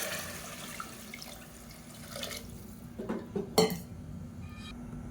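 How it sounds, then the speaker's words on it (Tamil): Water is poured into a pot of rice while making fenugreek rice porridge, with soft kitchen clatter and faint splashing building to a few sharper clinks and splashes near the end, all fairly quiet. "இப்போ நம்ம தண்ணி சேர்த்துக்கலாம்"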